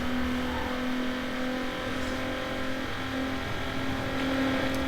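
Car engine in Need for Speed Underground holding a steady, droning tone throughout, loud and continuous with no talk over it.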